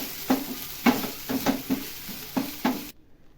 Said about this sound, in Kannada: ಉಪ್ಪು ಹಾಕಿದರೆ ಸ್ವಲ್ಪ ಬೇಗ ಫ್ರೈ ಆಗುತ್ತೆ. ಈಗ ಫ್ರೈ ಆಗಿದೆ, ಗೋಲ್ಡನ್ ಬಣ್ಣ ಬಂದಿದೆ.